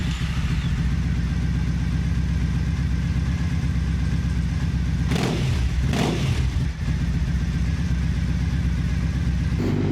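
A Triumph Thruxton 900 motorcycle on a ride toward Stirling gives a constant loud engine drone under heavy wind rush, with a brief shift in pitch partway through.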